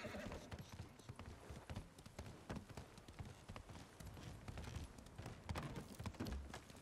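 A horse gallops in Ghost of Tsushima, its hooves beating in a rapid, continuous rhythm, fairly faint and alone, with an occasional snort.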